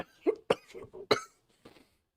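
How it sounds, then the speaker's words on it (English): A short coughing fit: several sharp, close coughs in quick succession, then a fainter final cough after a brief pause, heard alone without talk. "Every time I have a coughing fit"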